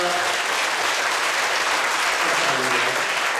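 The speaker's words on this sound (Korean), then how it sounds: "우리 귀한 공로자들 수고하셨더라고 뜨거운 박수 한번 주시고 인사드립니다" A church congregation at a 40th-anniversary service applauds its award recipients, dense and even clapping that fills the room for several seconds.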